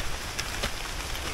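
Rain pours down on hikers climbing a steep trail toward a Malaysian waterfall, a constant broadband wash with a few faint drop taps scattered through it.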